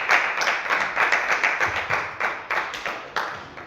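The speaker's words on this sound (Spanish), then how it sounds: "Dale un fuerte aplauso al Señor en esta hora" A church congregation claps in a steady unison rhythm, roughly two strong beats per second, even and loud with no voices over it.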